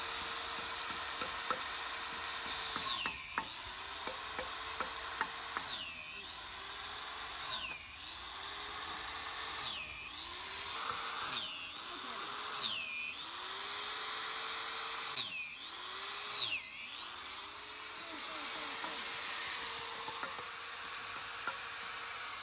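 Koki Holdings shiitake drill boring a series of holes into a log, about nine separate bursts of high whining spin-up and bite, each rising then dropping off, with brief pauses between, close and loud.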